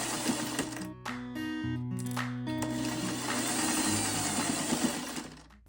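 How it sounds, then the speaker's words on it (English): A sewing machine joins two strips of vintage fabric for a bag, its motor whining steadily with shifting tones and a close mechanical hum that runs almost unbroken for several seconds, without speech. "we will go ahead and sew the two pieces"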